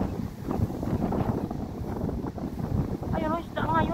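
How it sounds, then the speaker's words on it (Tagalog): Wind buffets the microphone on a small fishing boat at sea, a loud continuous rush with faint water sounds beneath and a short whistling tone near the end. "Mahangin kasi."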